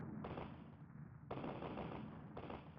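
Ships fire cannons in the SNES game Rampart, heard as three loud, dense bursts of rapid booming blasts, each lasting about a second, spaced evenly with a lower rumble between them. No one speaks.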